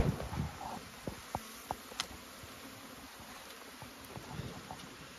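Faint buzzing of honey bees in a hive's honey super in Canada, a soft continuous hum with occasional louder passes near the microphone and light handling clicks.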